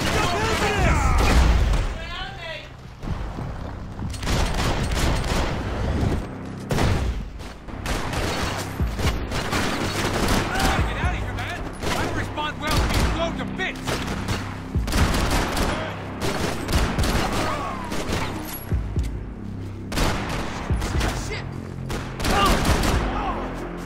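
Video game gunfire from Max Payne 3, with dense repeated shots and bursts throughout, loud and close, punctuated by booms, while a voice talks over parts of it.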